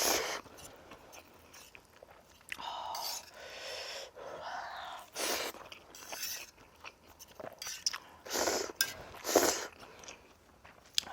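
Close, wet chewing and crunching of Wang Ttukkeong cup noodles with chunky toppings: repeated bites and mashing sounds with occasional breaths, loud and intimate, no speech.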